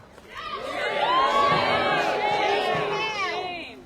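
A rally crowd opposing a data center proposal in Box Elder, Utah breaks into loud, sustained cheering and whooping, swelling quickly and then holding for several seconds before easing off.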